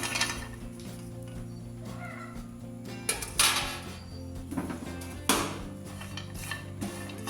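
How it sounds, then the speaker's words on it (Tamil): Dry ginger roasts in a pan for sukku malli coffee, with intermittent scraping and metallic clinks of a utensil against the pan, a couple of louder knocks, and a steady low hum underneath. "இப்போ நம்ம இதுக்குள்ளே சுக்கை வறுத்துருவோம்."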